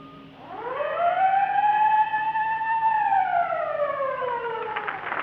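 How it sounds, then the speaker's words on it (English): Sponsor signal from an old CBS radio broadcast for Texaco: a wailing siren that rises, holds and slowly falls, loud and alone with a faint bell-like ring near the end. "Whenever you hear the siren and bell,"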